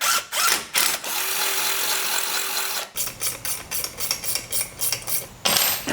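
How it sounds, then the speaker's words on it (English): Mechanical whirring and clicking bursts, a drill running in short pulses with a steady hum, stopping and starting repeatedly while drilling holes in a first-generation Toyota Tacoma door for custom mirrors; loud and close. "then we'll drill those holes out"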